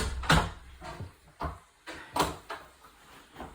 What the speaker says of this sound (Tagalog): Okay, sara na natin ang pinto.